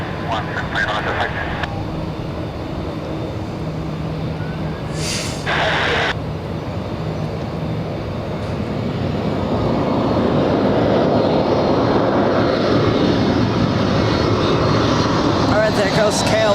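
A KLM airliner passing at Los Angeles International Airport, its engine roar building from a distant rumble to a louder, broad wash over the final seconds, with radio chatter and voices early on.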